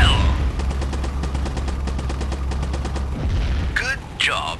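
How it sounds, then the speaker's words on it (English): Rapid machine-gun fire from the War Dog mobile game as German bombers are shot down, a dense burst of repeated shots over engine drone, followed by a couple of whooshing, descending effects near the end. "Shoot down the second bomber as well!"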